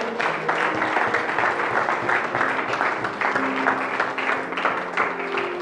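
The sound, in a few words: church congregation applauding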